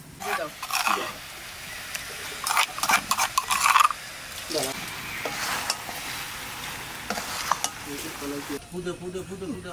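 Mutton sizzles in a pan with onion, ginger and garlic while a spoon scrapes and stirs it in bursts, close by, and a person talks over the cooking.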